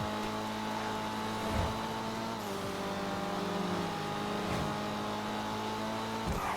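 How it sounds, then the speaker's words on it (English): Euros X32 mod car in GTA 5, engine revving and accelerating with repeated gear shifts that drop and climb in pitch, moderately loud and continuous with no talk. "Just drive the car."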